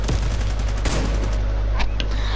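A loud burst of rapid gunfire in a shooter video game, several sharp shots cracking in quick succession over a constant low rumble, with no talk.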